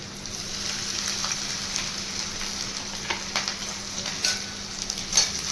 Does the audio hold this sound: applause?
no